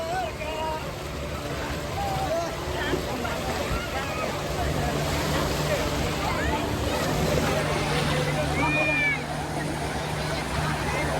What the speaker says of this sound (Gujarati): આ ડ્રેગન જેવી હોડી તો હવે જાય છે દરિયામાં